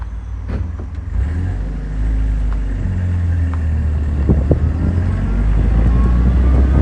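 A 1960 Warszawa 201P pickup drives along with a steady low engine rumble heard from inside, rising slightly as it accelerates, with road and wind noise throughout.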